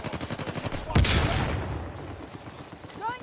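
Gunfire in an Uncharted 4 multiplayer match: a loud burst of shots around the one-second mark, with shots and explosions in the game trailing off behind it, and rapid game sounds before it.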